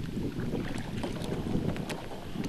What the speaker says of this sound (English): I'm gonna paddle up around that.